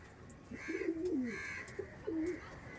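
A Bangladeshi teddy pigeon held in the hand coos in three soft, rolling phrases, close and alone against quiet background noise.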